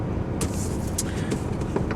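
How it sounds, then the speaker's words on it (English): A 2017 Citroën Spacetourer van with a 2.0-litre BlueHDi 180 diesel engine drives on a Swiss road while still warming up, giving a steady low engine drone and road rumble with a few faint clicks, no voices. "we're gonna take it easy until the engine warmed up"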